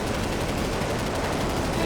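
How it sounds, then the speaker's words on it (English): A short burst of 30mm cannon fire during a jet dogfight, a loud dense rattling roar filling the whole moment without pause, harsh and close. "A short burst of 30mm cannon fire."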